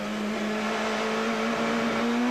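A touring race car in a 1996 British Touring Car Championship support race accelerates hard out of a chicane, its engine note rising steadily and loud, close up and continuous without talk.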